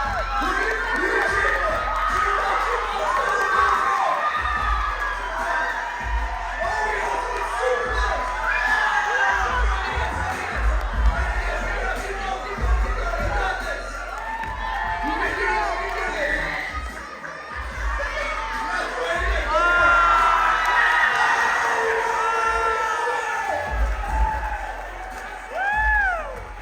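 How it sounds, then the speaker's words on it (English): Children at a youth camp cheer and shout for their team in a loud, continuous crowd roar with whoops and screams, shouting voices rising and falling throughout. "Cheer on your team, cheer on your team."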